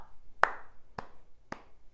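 Three single hand claps ring out, evenly spaced about half a second apart, crisp and close in a quiet room, the first the loudest.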